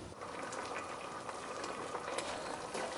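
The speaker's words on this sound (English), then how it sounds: "So the chickpeas have been simmering for over an hour." Chickpea curry simmering under a pot lid gives a steady, soft bubbling wash with small scattered pops, continuous and fairly quiet at close range, with no voices.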